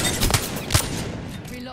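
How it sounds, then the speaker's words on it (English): Two sharp gunshots from a weapon in the battle royale video game Apex Legends, close and punchy, spaced about half a second apart, each fading into a faint reverberant tail. "Shots fired, and they're hitting me."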